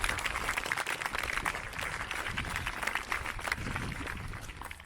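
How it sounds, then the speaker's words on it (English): A high school graduation audience applauds the senior student council, a dense, steady wash of clapping from a large crowd that holds its level throughout, with no clear voice on top. "let's give a round of applause for our students"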